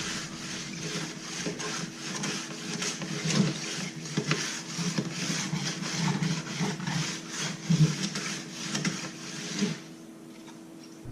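A ski edge tuning tool fitted with a stone is run along a ski's edge, making a steady close scraping rasp with repeated stroke surges for about ten seconds, then falling quieter; no speech.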